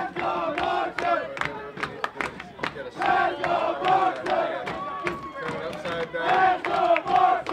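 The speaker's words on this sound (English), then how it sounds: "The crowd finally coming alive here." A crowd at a girls' high school soccer game shouts and cheers in loud bursts, with voices yelling together in waves throughout.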